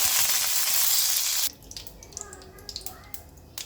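Curry leaves hit three spoonfuls of hot oil and burst into a loud, bright sizzle that cuts off sharply after about a second and a half, leaving softer crackles and pops.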